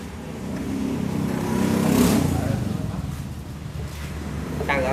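A Honda Super Cub C125 motorcycle, a European-import model, starts up and settles into a steady, close low engine hum that swells briefly before easing back, with wind noise across the microphone.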